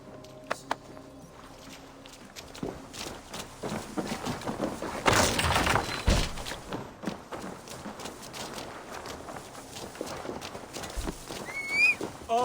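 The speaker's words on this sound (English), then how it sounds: "Basim, Eivor, to horse!" Hooves clip-clop in a steady galloping rhythm in the video game Assassin's Creed Valhalla, under a low rushing background, with a brief louder whoosh midway.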